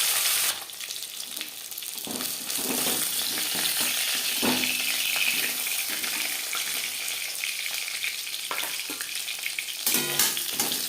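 Bata fish frying in hot oil for a fish curry, a steady close sizzle and crackle running throughout with occasional louder spits and stirring clicks, no voices.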